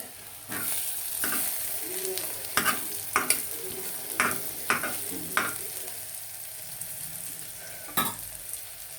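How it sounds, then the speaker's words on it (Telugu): Onions frying in a pan as mutton is added, a steady sizzle with about eight scraping stirs of a spoon mixed in, close and fairly loud, with no talk. "వేగినాక మటన్ వేసుకుంటున్నాను"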